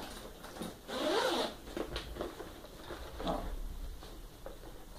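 A zipper on a small, compact black bag is pulled open in several quick rasping strokes, close and fairly loud, with a longer run at the start and shorter tugs after.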